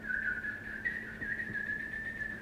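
A person whistles in imitation of a bird, one sustained high, wavering tone held for a couple of seconds, close and clear over faint background noise.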